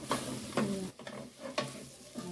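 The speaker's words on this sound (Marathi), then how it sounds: "कारली आणि मसाला ना छान मिक्स करून घेऊया।" A spoon scrapes and stirs bitter gourd pieces with masala in a frying pan, in several short strokes about half a second to a second apart over a soft sizzle, close by and without speech.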